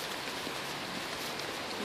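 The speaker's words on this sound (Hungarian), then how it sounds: "Esik az eső nálunk most" Steady rain falling, a dense continuous hiss of drops with no pauses and no voices, fairly close and even throughout.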